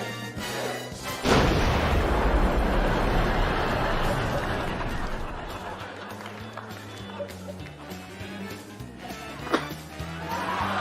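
A stage cannon fires with a loud boom during a magic act, followed by a long rumbling, crowd-like wash that slowly fades, with a sharp knock near the end.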